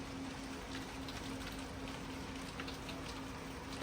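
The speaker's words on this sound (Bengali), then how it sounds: "প্রচন্ড বৃষ্টি হচ্ছে বাইরে" Heavy rain falls outside a home in London as a steady, even wash of patter that keeps up without a break, heard from indoors with a faint low hum underneath.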